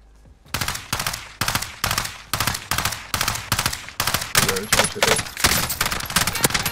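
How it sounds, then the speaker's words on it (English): Gunfire in the Warzone video game: rapid automatic bursts repeat loudly and steadily in quick succession for several seconds with no break. "Oh, I'm getting shot from close."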